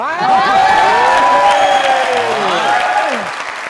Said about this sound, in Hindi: एक मिनट तालियां रोकिएगा